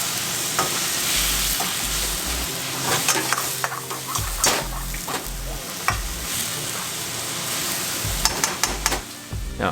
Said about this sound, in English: Give it a quick stir until everything is nicely coated in lard.